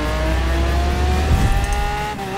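A racing car in Forza Horizon 4 revs hard and accelerates, its engine tone climbing steadily with a brief gear-change dip near the middle, loud and close.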